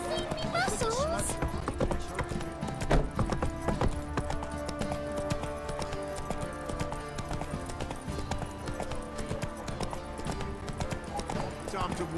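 Horses in The Witcher 3 clip-clop steadily at close range, hooves thudding in a regular rhythm over a busy game soundscape with music and occasional voices.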